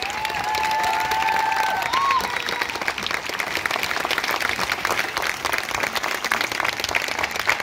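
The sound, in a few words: audience applause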